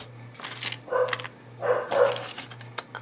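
A dog barks from another room of a house, a few muffled, mid-distance barks in quick bursts over a steady low hum.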